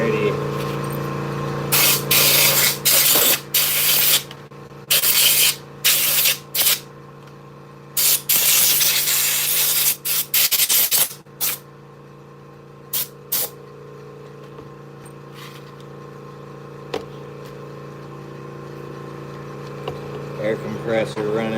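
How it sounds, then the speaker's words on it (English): An air compressor runs in a workshop with a steady low hum, broken by repeated sharp blasts of hissing air that stop partway through, leaving only the hum. "Air compressor running."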